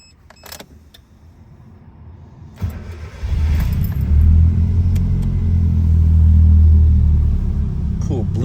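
A 1996 Suzuki Jimny Land Venture, a JDM kei SUV with a turbocharged engine, starts up and settles into a loud, steady low rumble at close range, with brief clicks and handling noises just before the ignition.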